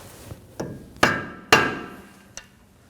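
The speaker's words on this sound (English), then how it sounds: "I'm gonna use a flathead screwdriver, and we're gonna notch it in" A flathead screwdriver struck with a hammer to notch an axle nut into its groove on a 2011-2016 Kia Optima front hub: five sharp metallic taps, two heavy ringing blows in the middle, close and without talk.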